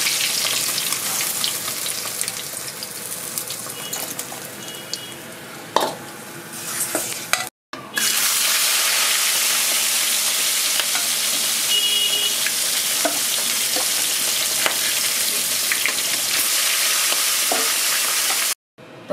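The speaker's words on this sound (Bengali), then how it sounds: "মাছ ভাজা হয়ে গেছে, তুলে নিচ্ছি।" Fish frying in hot oil, a loud steady sizzle that runs continuously with brief stirring clatters, cutting out for a moment partway through and again near the end.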